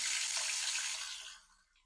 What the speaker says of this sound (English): To do this, turn on multiple hot water faucets in your home.